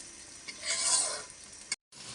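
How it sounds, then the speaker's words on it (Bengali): Garlic sizzling lightly in a pan, a soft hiss that swells and fades over a couple of seconds before a brief cut, quiet and close. "রসুন একটু হালকা করে ভাইজে নেব"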